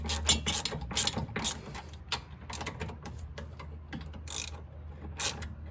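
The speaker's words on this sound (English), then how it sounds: "And now, guys, 18 millimeter socket. Start securing this top bolt." A ratchet with an 18 mm socket tightening the top strut bolt on a 2007–2011 Toyota Camry during a Monroe Quick Strut install, giving rapid clicking pawl bursts in short uneven runs, close and moderately loud.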